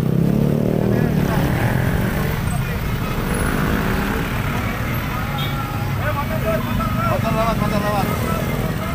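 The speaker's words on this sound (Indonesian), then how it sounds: "Motor lewat." A motorcycle passes close by on a road during a club anniversary departure, its engine drone rising and fading amid steady traffic rumble, while people talk nearby.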